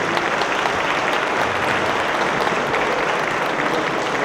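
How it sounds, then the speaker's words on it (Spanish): Audience applause at a panel event on transparency and accountability in fighting corruption, a steady, dense clapping that fills the whole stretch at even loudness with no voices. "Un aplauso, por favor."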